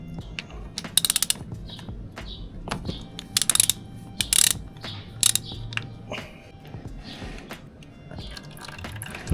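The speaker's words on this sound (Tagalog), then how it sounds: "buksan natin yung drain bolt dito sa kabila" A ratchet wrench clicks in quick bursts while loosening the 14mm oil drain bolt on a Suzuki GSX 150 motorcycle, sharp metallic ratcheting close up, interrupted by brief pauses and small clanks, no talking.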